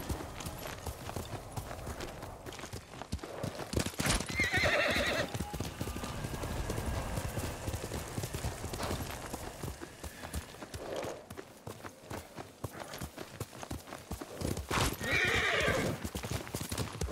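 In the video game Ghost of Tsushima, a horse's hooves clop steadily throughout, and two loud neighs break out about ten seconds apart, close and clear over the hoofbeats.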